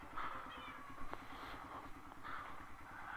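A cat gives a few faint, quiet meows at intervals over a soft, low rumbling background.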